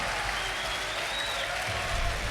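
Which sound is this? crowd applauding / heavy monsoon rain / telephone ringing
crowd applauding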